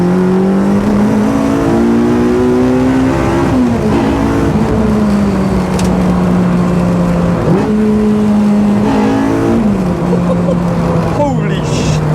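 A Honda Integra DC5 fitted with a K24 engine roars loudly from inside the car, the revs climbing through gears with brief dips between shifts, a voice talking now and then under the engine.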